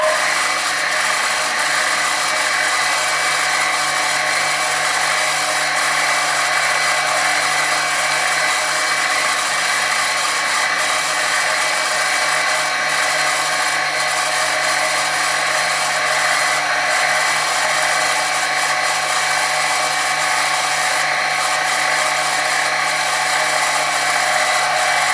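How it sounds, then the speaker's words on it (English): A power drill bores holes into a model airplane tail, a continuous high whine that holds steady and loud throughout with no breaks or talking. "I'm going to drill a hole down here and then 2 holes here and here"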